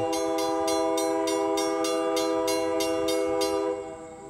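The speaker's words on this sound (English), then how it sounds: "I am going to race the train back to Glen Rock." Train near Glen Rock passing close by, a sustained horn blast over rapid, evenly spaced clacking of wheels on rail joints, loud and near before easing off at the end, no talking.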